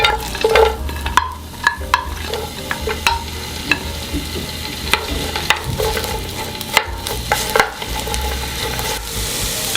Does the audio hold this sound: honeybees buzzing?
no